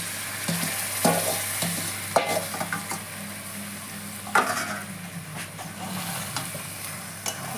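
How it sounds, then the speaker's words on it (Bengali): Marinated chicken goes into a hot pan of spiced oil and fries with a steady sizzle, broken by sharp scrapes and clacks of a stirring spoon against the metal, close and with no voices. "এখন আমি যে চিকেনটাকে ম্যারিনেট করে রেখেছিলাম সেটাকে দিয়ে দিচ্ছি"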